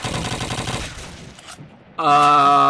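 Gunfire crackles in rapid bursts in Call of Duty 2 during a competitive match, fading into a quieter stretch before a loud, sustained in-game blast sound cuts in.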